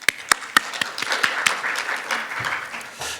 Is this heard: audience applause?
yes